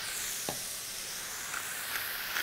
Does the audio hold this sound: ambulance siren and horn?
no